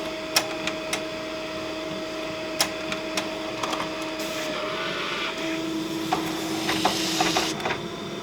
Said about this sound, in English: Feeds my material through, and the printer is now reporting ready to print.